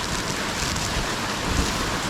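Rain falls on a farm during a corn harvest, a loud, dense, steady hiss of drops on surfaces that fills the whole clip without a break, with no voices.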